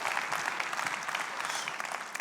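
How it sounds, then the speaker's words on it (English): An audience claps for a presenter during a white paper presentation, a brief, steady burst of moderate applause with no gaps. "Applause for my friend, King James"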